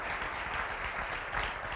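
Steady applause from a large lecture audience welcoming a speaker onto the stage, a dense wash of clapping that holds at an even level throughout with no voices on top.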